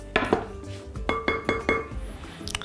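A silicone spatula stirs spring roll filling of vegetables and peppers in a pan, giving a series of close clinks and scrapes in an uneven rhythm, around six distinct contacts.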